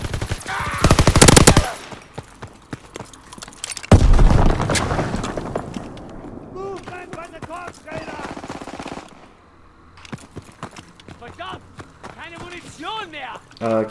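Machine gun fire in Call of Duty: World War 2, loud rapid bursts early on, then scattered shots and game sounds as players talk over them.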